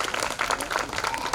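Audience applause at an outdoor Juneteenth 2021 community celebration in Walpole, a short burst of steady clapping from a crowd with some voices mixed in.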